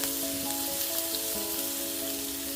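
Onions and green chillies frying steadily in hot oil, a constant bright crackling sizzle with a faint tonal hum running underneath, close and even throughout.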